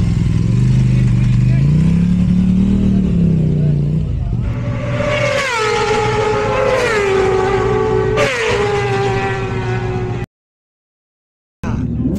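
Racing motorcycle accelerating out of pit lane at the Isle of Man TT, engine note climbing and shifting through gears, loud and close before cutting off abruptly near the end.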